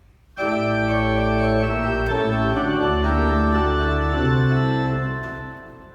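An 1806 Schiörlin pipe organ in Gammalkil plays a sustained, deep pedal line on a 16-foot stop beneath held chords, rich and resonant, with notes changing slowly.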